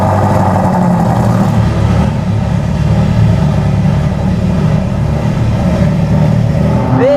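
Ferrari F40 with a straight pipe exhaust on Tennessee roads, its engine a steady loud drone throughout with a rising rev at the very end, close and continuous with no talk.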